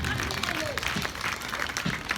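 A church congregation claps for Jesus during a fiery sermon, a dense burst of applause with voices mixed in, close and moderately loud.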